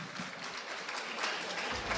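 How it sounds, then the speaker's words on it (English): Audience applause follows a silambam performance at a Tamil Heritage Month opening event in Toronto, a dense, steady clapping from a crowd that holds at even loudness throughout. "So give them a big round of applause, please."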